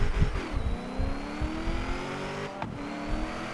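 Supercharged Ford Mustang in Forza Horizon 3, engine revving steadily with a gear change and rising whine, continuous and up close throughout with no talk.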